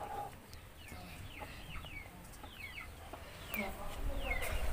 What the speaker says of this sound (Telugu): అంటే ఇది ఒక పెట్ట.